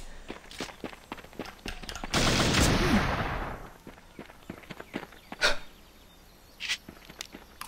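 Gunfire in a PUBG-style battle royale game built in Minecraft: a loud sustained burst of shots rings out amid sharp scattered clicks and footstep-like taps.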